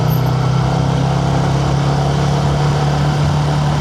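A motorcycle engine runs steadily throughout at close range, a constant low throb with a strong even hum and no talk over it.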